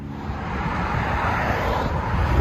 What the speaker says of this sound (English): Chevy Camaro SS. Rear muffler delete, 5-inch tips.